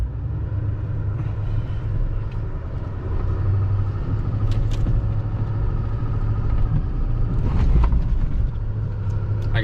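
A 2020 GMC 2500 pickup truck fitted with Rough Country Vertex shocks drives up a hill, giving a steady low engine rumble and road noise heard from inside the cab, with a few faint knocks and rattles.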